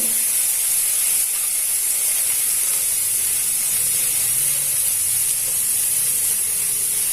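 Chopped vallarai leaves sautéing in a pan, a steady, loud, even hiss that holds without a break for several seconds.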